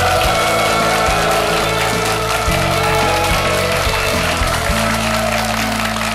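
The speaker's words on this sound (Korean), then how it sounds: "여러분 박수로 맞아주십시오" Studio audience clapping to welcome a guest lecturer onto a Korean television special, a dense continuous patter under a strong, steady tonal music bed that stays loud throughout.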